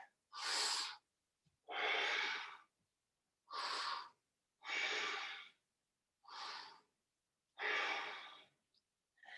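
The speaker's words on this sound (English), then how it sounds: "Let's do 3 delicious breaths right here." Slow, deep breaths during a yoga pose, six breathy inhales and exhales heard up close in a quiet room and separated by short silences.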